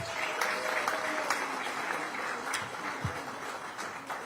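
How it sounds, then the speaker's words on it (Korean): Audience applause at a Korean political party event, a dense crowd clapping steadily throughout, with a few louder individual claps and faint voices mixed in. "큰 박수 한번 주시기 바랍니다."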